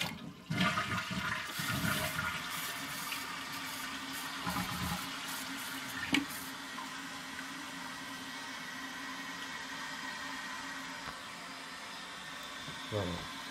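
A 1995 Vitromex Marathon toilet flushes with a loud, steady rush of water that gradually settles into a softer tank-refill hiss, with brief handling noises near the start.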